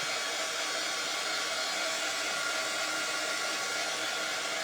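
A hair dryer blows steadily on freshly painted pieces of a wooden standing bunny craft kit, a constant close airy roar with no talk for the whole stretch.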